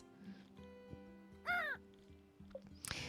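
A bird gives a single loud caw in the video game Witchy Life Story, a short harsh call over a gentle looping music track, with a few small clicks afterward.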